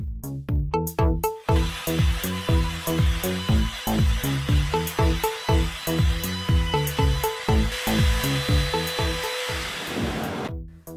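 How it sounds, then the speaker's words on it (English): A router reworks the edges of a DIY mobile circular table saw build, with loud close repeated whining surges in a rhythmic rise-and-fall pattern as the cutter runs along the workpiece. "I rework the edges with the router"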